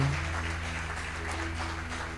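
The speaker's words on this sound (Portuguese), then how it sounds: "Uma salva de palmas para Jesus aí." Steady applause from a church congregation during an evening worship service, a dense continuous wash of clapping over a low hum, held at an even level throughout with no speech.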